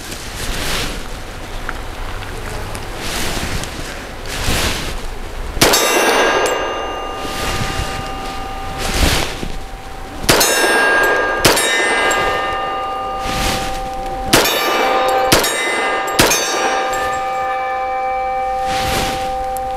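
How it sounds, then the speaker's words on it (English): Several sharp metallic rings from .45 pistol rounds striking a reduced-size steel torso target about 20 yards downrange, fired from a Grand Power P45L at an outdoor range, spaced irregularly with ringing tails over a steady rain-like background hiss. "A different noise on the steel."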